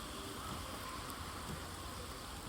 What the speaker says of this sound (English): So if it's raining, next time, get out in the rain.